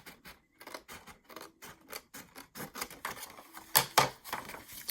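Scissors snip through paper for a mini album in a quick run of short, crisp cuts, close and fairly quiet, the snips growing a little louder and denser toward the end, with no voices.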